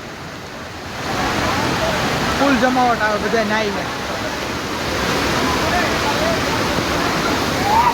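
Water pours down in a steady, loud roar at Jatashankar Mahadev temple in Junagadh during the rains, filling the air continuously while people talk nearby.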